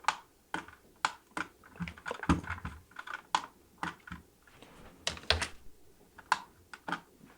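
Keyboard shortcut presses made while 3D modelling: irregular clicks and clacks of keys, some in quick clusters and others spaced apart, close and fairly quiet, with no speech.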